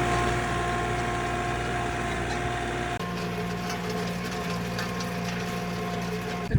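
A tractor pulling a disc lightly across a field to plant corn for doves, a steady droning engine with a low rumble and whine that shifts in tone partway through, continuous and fairly close, no talking.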